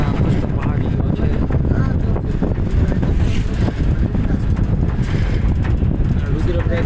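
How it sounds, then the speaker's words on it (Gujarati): Cold mountain wind buffets the microphone in the Uttarakhand hills, a loud, continuous roar and rumble that never lets up, with a voice speaking underneath it. "ઠંડો પવન આવે છે"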